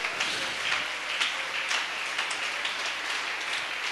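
A church congregation applauding, a steady wash of many hands clapping at moderate volume, filling the room without pause.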